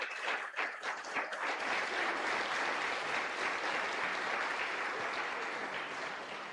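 A church congregation breaks into sustained applause during a worship service, a broad, even wash of many hands clapping that holds steady from start to finish, with a few shouts at the very beginning.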